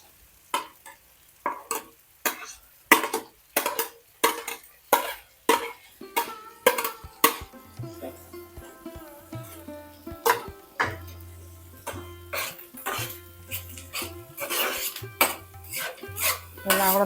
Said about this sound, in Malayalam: എല്ലാം കൂടെ നല്ലതുപോലെ ഒന്ന് മിക്സ് ചെയ്തിട്ട് നല്ല വഴറ്റിയെടുക്കണേ